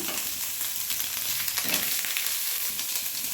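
Garlic and leaves frying in hot mustard oil, giving a steady close hiss of sizzling with a faint stir or two, even and unbroken.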